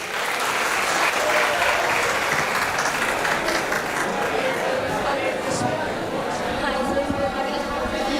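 Audience applause welcoming a student performer onto the stage to sing a Povada at a college event, steady sustained clapping from a crowd with murmured chatter beneath it.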